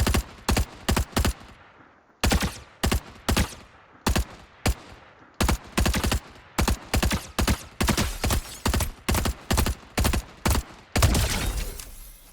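Bursts of gunfire from a weapon fired at long range in a video game, loud and close, coming as short clustered rapid volleys with brief gaps between them and no talk.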